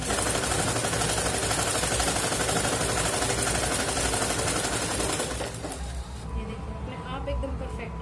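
A sewing machine rattles in a fast, continuous run while stitching a double-folded seam on a simple blouse, then slows and stops near the end with faint handling sounds.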